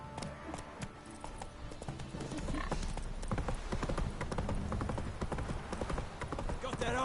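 Roach the horse galloping in The Witcher 3, rapid rhythmic hoofbeats close and steady, with occasional snorts and a voice speaking over the game sound.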